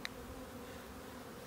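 Buckfast honey bees buzz steadily inside a nuc box. The hum is faint and continuous and holds at one level the whole way through.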